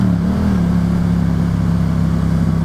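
Yamaha FZ-07 motorcycle ridden after a rebuild, its engine droning steadily and close at an even pitch with a slight shift early on, loud and continuous with no voices.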